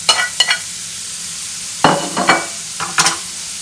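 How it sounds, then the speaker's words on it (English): Shrimp for garlic shrimp pasta tossed in a hot pan, a soft sizzle broken by several sharp scraping stirs and clatters, close and fairly loud with no talking. "we add our shrimps here."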